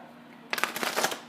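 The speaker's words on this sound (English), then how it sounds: "oh, that was a terrible shuffle" A deck of tarot cards is shuffled in one brief riffle, a close burst of rapid flutters and slaps that starts suddenly after a quiet pause.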